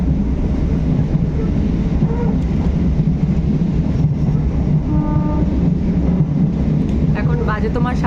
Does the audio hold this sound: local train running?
yes